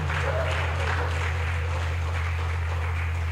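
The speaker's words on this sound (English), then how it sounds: "Please, let's clap for them." A conference audience at a food safety event applauds steadily, a dense, even wash of many hands clapping throughout over a low constant hum in the hall.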